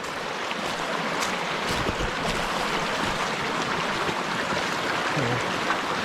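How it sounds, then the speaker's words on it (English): Broad rushing wash of Flint Creek flowing in the Colorado wilderness, steady and fairly close, mixed with wind buffeting as someone crosses on foot; no speech. "Gotta cross Flint Creek real quick"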